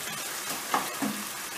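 Tomato paste fries in hot oil for a Turkish barbunya pilaki stew, giving a soft, steady sizzle with a couple of brief louder crackles, heard close up and with no talking.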